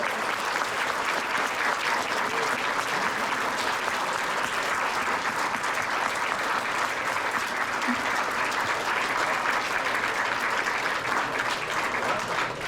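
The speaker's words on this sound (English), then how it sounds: "So please give yourselves a huge round of applause for this wonderful total." A large crowd at the closing ceremonies of an outdoor cider festival applauds themselves, a dense, steady roar of clapping that holds evenly loud for the whole stretch without pause.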